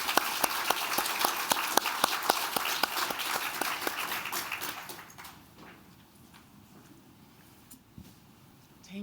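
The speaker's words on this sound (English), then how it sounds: "So if you'll join me in giving them a round of applause," Audience applause for artists and art dealers at a New York gallery talk, loud and steady with dense clapping for about five seconds, then fading quickly to a quiet room with a few stray claps.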